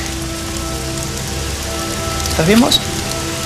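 Steady rain falls and patters on a surface as a constant hiss throughout, while a person speaks briefly in Spanish over it near the end.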